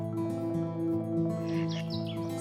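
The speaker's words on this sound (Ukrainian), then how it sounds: "слухати дзвінки спів пташок" Small birds sing bright, quick twittering phrases over a steady humming backdrop, the chirps growing busier and higher toward the end.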